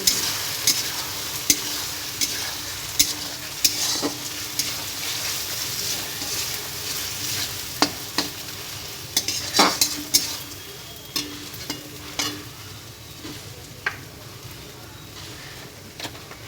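Ground spice paste being stirred and fried in a pan for a village-style lunch, a continuous sizzle broken by repeated metallic clinks and scrapes of a utensil against the pan.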